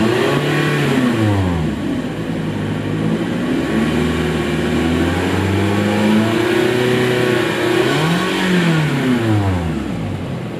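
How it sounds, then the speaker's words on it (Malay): A Toyota Camry engine revving loudly up close, the exhaust note rising and falling through several throttle blips and sustained revs. "Jom kita dengar bunyi exhaust dia."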